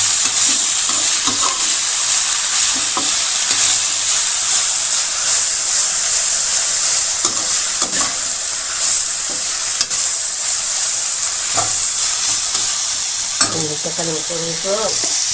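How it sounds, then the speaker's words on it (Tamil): A spoon stirs a mixture of tomato and potato frying in a pan for a potato curry side dish, a steady sizzle and hiss under repeated close scraping strokes, with no talking. "இப்போ ஒன்றா போட்டு நம்ம மிக்ஸ் பண்ண வேண்டியதான்."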